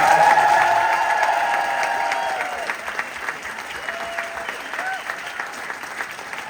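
Theatre crowd at the Les Misérables 40th anniversary charity gala clapping for the production team, applause starting loud and gradually thinning out, with a voice and a few scattered cheers over it.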